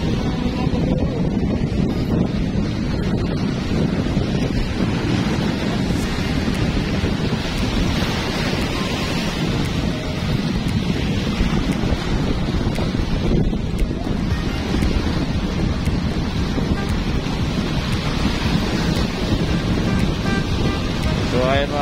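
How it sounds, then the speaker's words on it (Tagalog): Waves crash along the shore of Manila Bay on a rough, windy day, a continuous loud roar of surf mixed with heavy wind buffeting the microphone. "yung hampas ng alon"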